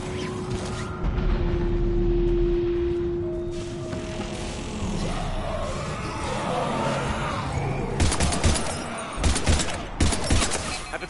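Heavy gunfire in Mass Effect 3, a near-constant volley of shots through a chaotic firefight with sharper bursts near the end, over a dense background of combat noise.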